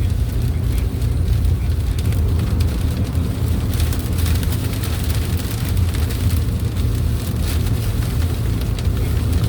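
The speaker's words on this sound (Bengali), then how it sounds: "মালয়েশিয়ায় বৃষ্টি, এই প্রথম আমি দেখছি বৃষ্টি এভাবে গাড়ির মধ্যে।" Rain falls on a car in Putrajaya, Malaysia, heard from inside as a dense, steady drumming hiss over a low rumble that continues without pause.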